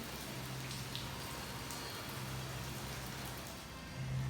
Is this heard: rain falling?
yes